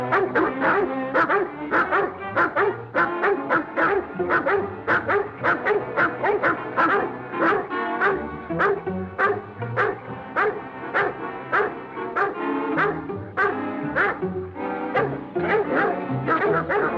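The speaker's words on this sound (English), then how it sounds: "Hear those dogs?" A pack of dogs barks loudly and continuously in rapid, overlapping yaps and woofs, with occasional whimpers, close and dense throughout.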